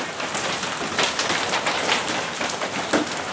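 Hailstones about quarter size pelt down in Houston, making a loud, constant rattling patter with scattered sharper hits, close by and with no speech.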